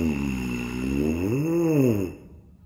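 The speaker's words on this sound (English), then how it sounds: "On the mouthpiece, you can also practice buzzing sirens, which is glissing up and down" Lips buzzing into a tuba mouthpiece in a siren warm-up, a low nasal buzz that slides up and back down in pitch over about two seconds before stopping abruptly.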